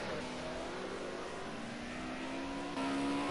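Onboard a BMW Group A touring race car lapping Spa, a steady buzzing engine note with rising harmonic pitch as it accelerates, continuous and close with no talk.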